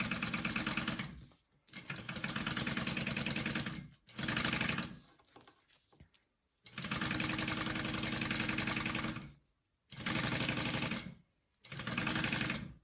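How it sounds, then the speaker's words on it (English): A sewing machine bastes a seam at the half-inch mark, running in several steady bursts of rapid stitching separated by short pauses. "we're gonna baste that in place at that 1/2 inch mark"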